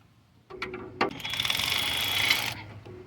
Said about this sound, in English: I'm gonna have my cordless ratchet ready on the head of the bolt there on the other side.